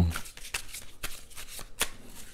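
Tarot cards are shuffled for a reading, a close series of crisp riffling flicks and slaps at a quick uneven rhythm, fairly quiet.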